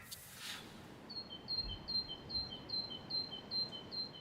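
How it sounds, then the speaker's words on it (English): Birds sing in London, repeated high chirping phrases at a steady rhythm over a low hum of distant city noise, fairly faint and without voices. "Birdsong, able for once to pierce the noisy din it normally competes with in the British capital."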